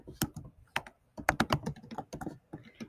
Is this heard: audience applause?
no